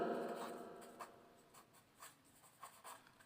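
A pen writing on paper, scratchy strokes coming in short irregular bursts close by, fairly quiet with brief pauses between marks.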